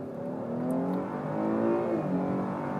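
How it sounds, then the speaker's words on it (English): A 2019 Chevy Blazer V6 with a 9-speed automatic pulls hard under full throttle, a steady rising engine drone heard from inside the cabin, climbing in pitch before easing at a shift. "It's a very nice sounding V6 engine, and the 9-speed handles the shifts really well"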